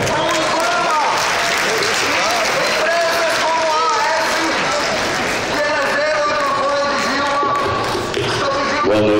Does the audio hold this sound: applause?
yes